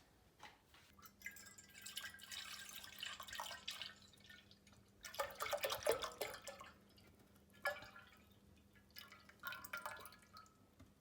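Full fat milk from a one-litre bottle pours into a pot in gurgling, glugging splashes, swelling and easing in several waves nearby, with no one talking.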